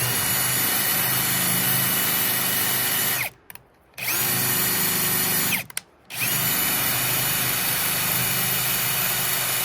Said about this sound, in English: See if we can get this drilled out.